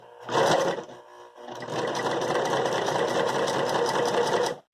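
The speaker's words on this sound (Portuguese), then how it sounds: "Então você vai colocar a mão do lado, apertar e ver o que acontece com a máquina." A sewing machine stitching in reverse: a short burst of running, a brief pause, then a steady, loud, even whir of rapid stitching for several seconds before it cuts off.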